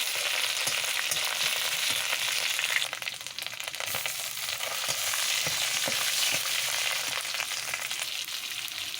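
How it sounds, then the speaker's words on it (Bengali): Chopped onion and spice paste frying in oil in a wok, a steady dense sizzle running the whole time with faint stirring clicks and scrapes, close and fairly loud, no talking. "কড়াইতে দিয়ে দিলাম পরিমাণ মতো তেল আর দিয়ে দিচ্ছি কিছু পেঁয়াজ কুচি"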